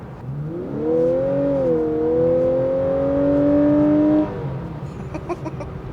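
A Lexus LC500h hybrid engine revs in a sustained, slowly rising drone for several seconds, then drops away to quieter road noise.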